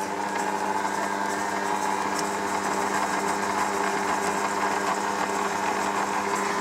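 A stand mixer fitted with a paddle turns over shortbread dough with sugar at low speed, giving a steady, even motor whir with a faint mechanical rattle that holds unchanged throughout.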